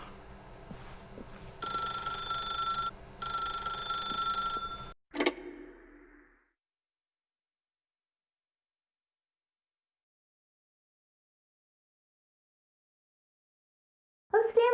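A telephone rings in Stanley's apartment in The Stanley Parable video game, two long trilling bell rings separated by a short pause, then a clunk, near-silence, and a faint start of another sound at the end.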